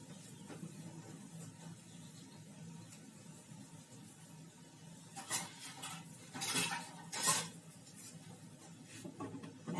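A lid goes onto a pan of gram-flour and vegetable uttapam cooking on medium heat: a few short metallic clinks and clatters midway through, over a faint steady background hum.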